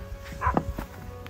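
Dogs on a farm let out a couple of brief, muffled barks at a distance over a low background hum.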